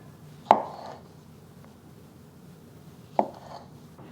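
A knife chopping Roma tomatoes into eighths on a cutting board, two crisp, separate cuts a few seconds apart, close and clear against a quiet kitchen background.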